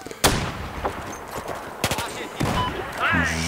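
Short bursts of automatic gunfire from a weapon in Battlefield 4, sharp cracks and a rapid rattle spread over a few seconds, with brief game noises and a faint voice in between.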